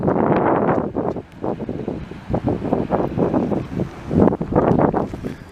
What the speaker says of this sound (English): unfortunately, it's still really windy